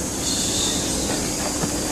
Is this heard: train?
yes